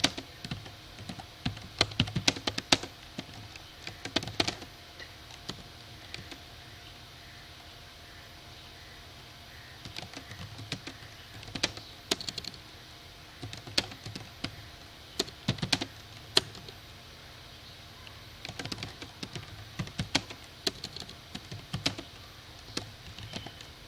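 Someone types a letter on a computer keyboard in a beginner's MS Office lesson. Close, crisp keystrokes come in quick bursts separated by short pauses, with no talking.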